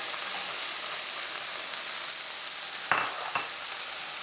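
Frozen roasted peppers and onions sizzle in a pan with hash browns, a steady bright frying hiss throughout, with a couple of brief stirring scrapes near the end and no voices.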